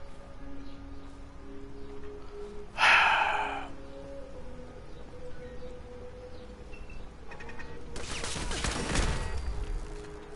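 An automated turret firing in Fallout 3, heard as two short bursts of rapid gunfire a few seconds apart over quiet game ambience, the second burst longer and louder.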